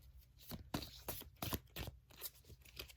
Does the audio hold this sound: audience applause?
no